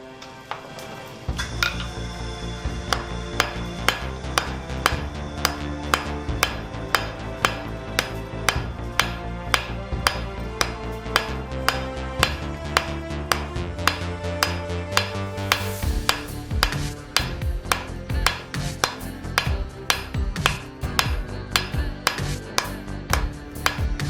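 Hammer blows ringing on hot steel over an anvil while forging a leaf, a long run of sharp metallic strikes in a steady, brisk rhythm with bright ringing overtones, close and loud without talk.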